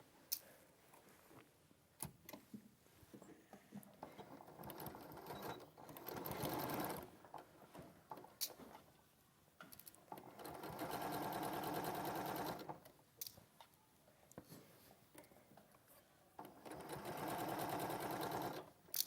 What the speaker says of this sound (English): I'm going to sew that now.